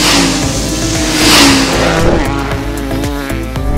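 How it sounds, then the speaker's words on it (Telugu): Kinetic Green vehicle starting up and running, a steady, loud motor sound with rising and falling tones and a brief squeal-like whine, continuous throughout with no talk. "బండి స్టార్ట్ చేద్దామా?"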